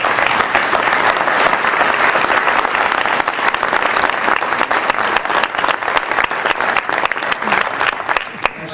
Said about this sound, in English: I ask that you please give them a round of applause